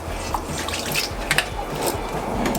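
Water splashing and dripping onto a metal family-size washboard while wetting it for off-grid hand laundry, with irregular close trickles and light metallic patters throughout.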